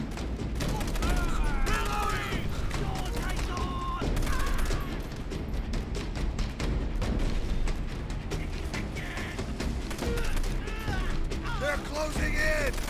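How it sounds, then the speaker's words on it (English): Enemy machine gun fire rattles in a Call of Duty: World at War battle on Okinawa, continuous bursts and scattered shots mixed with shouted voices and battlefield clatter. "Enemy machine gun."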